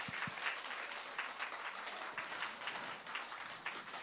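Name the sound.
church congregation applause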